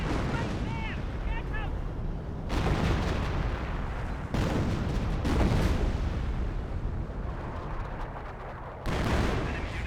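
Artillery fire from a 25-pounder gun pounding a Fort HQ in Company of Heroes, dense booming blasts and rumbling explosions sounding continuously and loud, with a voice talking over the battle.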